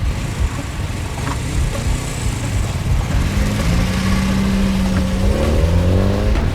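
A car engine rolls steadily past at a checkpoint, a mid-pitched hum rising and falling as it moves by, with a continuous traffic rumble behind it and no talk over it.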